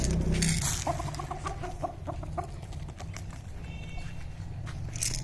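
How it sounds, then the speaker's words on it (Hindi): Chickens and larger roosters cluck and chatter while being fed grain in a Pakistani village yard, a steady busy flock murmur with scattered sharper clucks throughout and a faint voice at the start. "ये जो इधर मुर्गियां फिर रही हैं, इनको भी दाना डाल देती हूँ।"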